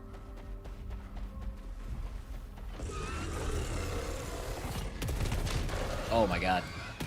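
Shots from a marksman handgun in the video game SAROS ring out amid dense combat noise and mechanical clatter, loud and continuous, with a voice talking over it.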